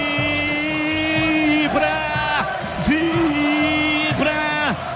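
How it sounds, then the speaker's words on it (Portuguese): Football crowd in a stadium cheering after a Ponte Preta goal against Noroeste, a steady roar of fans running throughout beneath a loud, excited commentator's voice that swells and rises in pitch. "A torcida vibra"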